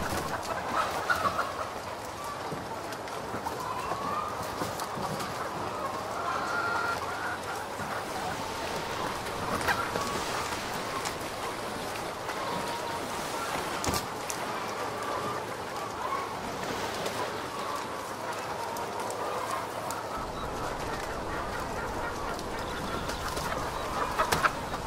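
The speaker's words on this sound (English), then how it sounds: "Sounds like chicken," Chickens clucking in the GTA video game, a steady, dense stream of soft clucks and bird chatter lasting throughout under a constant noisy bed, with no talk.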